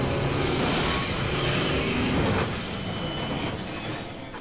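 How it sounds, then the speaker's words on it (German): Train rumbling along in GoldenEye 007 on the Wii, a loud, dense, continuous roar of wheels and carriages that eases slightly toward the end, with no talking. "Schieß doch den Zug ab!"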